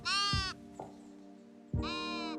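Sheep in a video game give two clear, nasal bleats, one at the start and one near the end, close and clean with a short soft thump between them.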